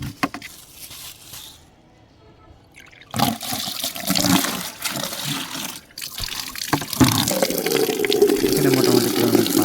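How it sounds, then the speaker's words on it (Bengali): Water pours from a tap into a bucket on a poultry shed floor before lime is mixed in, a quiet trickle at first and then a louder rushing, splashing fill that grows fuller toward the end. "এখানে মোটামুটি পরিমাণে পানি নিয়ে নিচ্ছি।"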